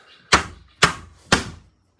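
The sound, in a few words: beating out a broken window latch on a school bus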